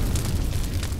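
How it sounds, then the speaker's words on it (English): A grenade blast in the action game Judgment, a thick, rumbling explosion that fills the whole short moment at close range with no voices over it. "That motherfucker threw a grenade."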